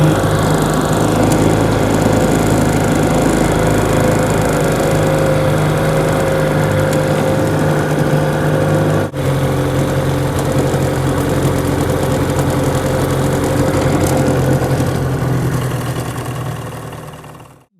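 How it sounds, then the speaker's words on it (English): Motor of a 1966 George Ladd rental houseboat on the San Joaquin River, a steady loud droning engine running without pause for the whole stretch, fading slightly at the end, with no talking. "Does it have a motor on it? I have a motor in it, yeah."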